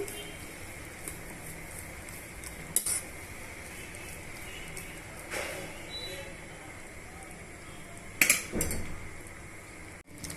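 Masala curry being stirred in a pan, with a ladle scraping and clinking against the metal in scattered knocks over a low, steady background, louder clinks near the end.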